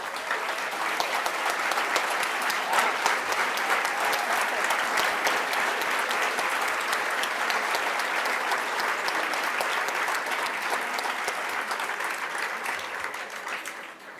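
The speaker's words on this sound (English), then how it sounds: "let's give them a huge round of applause" Sustained applause from a breakfast audience for pace setters at a breast cancer fundraiser, a steady dense roar of clapping filling the room at an even level before fading slightly at the end.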